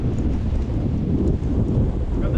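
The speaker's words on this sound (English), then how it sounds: "Oh yeah, it's windy out here." Strong wind buffets the microphone near the Pillar of Hercules, a loud low rumble that gusts continuously throughout.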